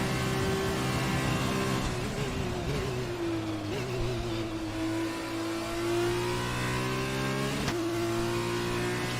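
An F2 race car in the game F1 2020 on an Italian circuit, its engine holding a high steady whine that dips and rises as the throttle is balanced, close and continuous.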